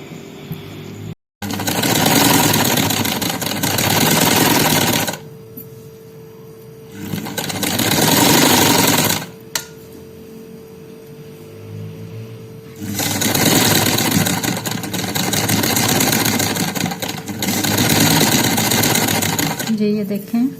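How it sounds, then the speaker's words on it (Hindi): A sewing machine stitches a fabric neckline in three long bursts of steady mechanical whirring and clatter, split by pauses in which someone speaks. "फिर अब सिलाई लगाते हैं इसकी।"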